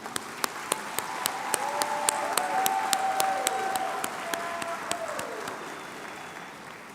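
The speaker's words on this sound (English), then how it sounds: "They deserve a huge round of applause." A graduation crowd at Viola Dewalt High School applauds its teachers, steady clapping with sharp individual claps standing out, a whistle gliding over the top, and faint voices mixed in.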